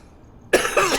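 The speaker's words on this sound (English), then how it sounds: "I've got a cough." A person lets out a short, sharp cough that bursts in suddenly after a quiet moment, followed by a second rougher cough close to the microphone.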